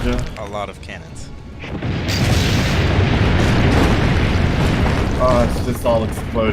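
Explosions in the video game Assassin's Creed: Brotherhood merge into a loud, sustained wall of booming blasts, with someone talking briefly before and after the rumble.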